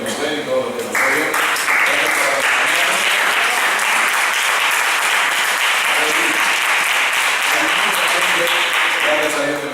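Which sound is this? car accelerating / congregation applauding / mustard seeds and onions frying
congregation applauding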